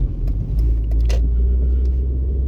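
Engine of a 1998 Mazda 626 idling rough with a heavy low rumble that surges and dips unevenly, punctuated by small clicks and rattles, close and loud with no talk.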